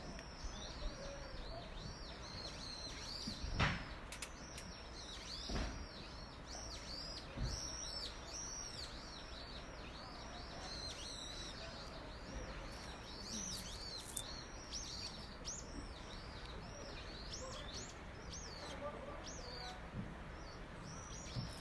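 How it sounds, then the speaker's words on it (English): Birds chirp and call steadily outdoors at a cove where a striped dolphin pod is being chased, with bright repeated tweets and a few coos over a soft wash of ambient background noise, no talking. "Those are birds that you hear."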